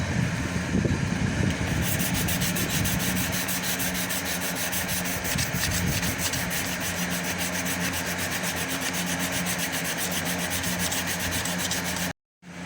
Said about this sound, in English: so I sanded it out